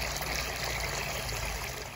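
Water flushing at full flow from a water heater drain, making a steady, rushing hiss with a low rumble underneath, continuous and fairly close, with no talking.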